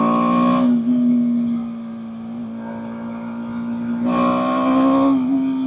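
A 2024 BMW G 310 R single-cylinder motorcycle idling, then revved sharply twice, with a rising buzzy engine note at each blip and a steady idle drone between, recorded close to the bike with no voices.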